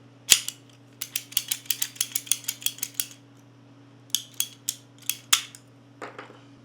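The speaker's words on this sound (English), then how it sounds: "you're cutting a little piece of PEX" Small handheld pipe cutter snipping PEX tubing, a rapid run of sharp clicky ratcheting snaps in two bursts with a short pause between, close and distinct over a steady low hum, no talking.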